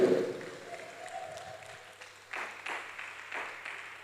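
A church congregation at a French sermon on Holy Communion gives a short, moderately distant round of applause in bursts, following a brief voice at the start.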